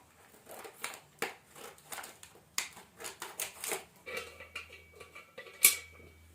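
Metal bolts rattle and clink as they are taken out during assembly of a DYNAMIC Stamina Style weight bench, with close, irregular taps and scrapes at low volume.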